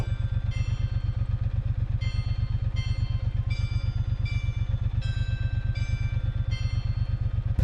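A Triumph Bonneville T120 parallel-twin idles and chugs steadily in stop-and-go city traffic, a loud, even low throb pulsing without pause, with faint metallic ticking riding over it.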